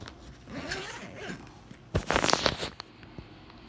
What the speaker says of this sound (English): let me zip this back up.